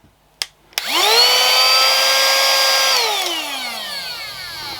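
A handheld in-car vacuum cleaner with a silicone flap switches on after a couple of clicks, its motor spinning up to a steady, loud whine, then winding down after about two seconds of running.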